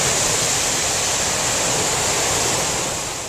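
A wave raised by calving glacier ice washes onto an Alaskan riverbank as a loud, steady, broadband rush of surging water. The roar stays close and constant, easing slightly at the end, with no voices.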